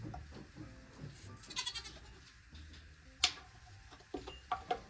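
Goats in a barn during daily herd care and weighing, with several bleats and bursts of bleating over close livestock noise and rustling.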